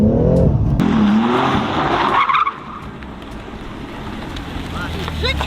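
BMW M3 drifting with tires skidding and squealing in long sweeping bursts, loud and close, with engine roar and wind rushing past; a voice talks briefly over the first half before the skid fades into steady driving noise.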